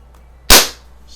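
A single sharp crack from a CO2-powered BB pistol, a Daisy 1200 or Crosman 1600, fired close by, a loud snapping burst that decays quickly against a quiet background.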